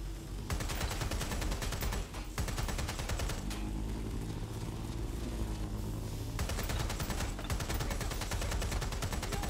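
Rapid automatic gunfire rattles almost nonstop in Watch Dogs: Legion, loud dense bursts with a short pause in the middle, no talking over it.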